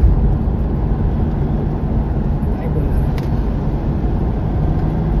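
A vehicle rumbles through the Kashedi road tunnel, a low, echoing drone that persists throughout while someone talks over it.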